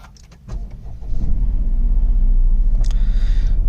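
A 2020 Toyota Raize with a 1000 cc engine is started by push button; the engine catches after a second and settles into a steady, close idle rumble, with no talking.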